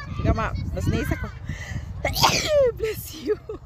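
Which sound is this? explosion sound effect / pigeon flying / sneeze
sneeze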